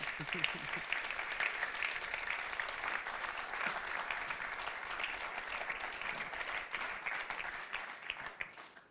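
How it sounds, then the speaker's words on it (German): Warm audience applause greets a speaker arriving at a talk on Shavuot, steady dense clapping from a crowd filling the whole stretch at even strength before tapering off at the end, with no talk over it. "heißen wir ihn doch mit einem herzlichen Applaus willkommen"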